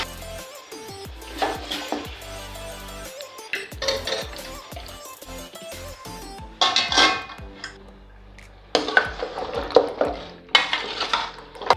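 Beef paya trotters are stirred in hot ghee in a pot, with metal spoon scrapes and clinks over a light sizzle, coming in uneven bursts of stirring and separated by short pauses.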